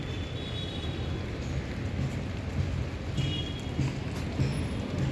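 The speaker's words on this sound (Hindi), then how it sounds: "है ना, बारिश शुरू हो गई है।" Rain begins falling on a garden in Bangalore, a steady broadband patter with scattered faint drops, moderately quiet and continuous with no voices.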